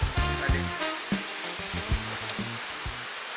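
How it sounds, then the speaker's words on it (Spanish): Ocean water surging through a rocky blowhole on a Tahiti coast in French Polynesia, a loud close roar of rushing, hissing spray with short booming pulses as waves push through. "Estamos escuchando los ruidos muy fuertes del océano. Me parece que esto es un respiradero, o como se dice en inglés, un blowhole"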